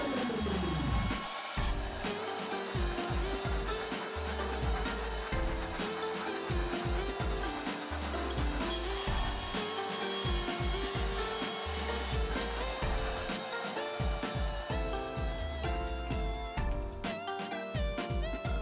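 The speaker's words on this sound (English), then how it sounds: "Now to cut off the majority of the excess." Power saw trimming excess from a bent laminated wood piece, loud continuous cutting with a rapid repeating rhythmic chatter and shifting pitch throughout, close by and with no talking.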